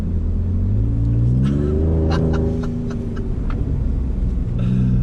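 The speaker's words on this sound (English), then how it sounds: "Great sound coming from that freaking EcoBoost" A Hennessey VelociRaptor 600, a modified Ford Raptor pickup with an EcoBoost engine, revs loudly and close, its deep rumble rising in pitch through a throttle blip and then settling back to idle.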